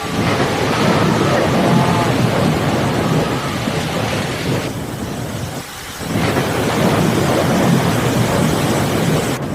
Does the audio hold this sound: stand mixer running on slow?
no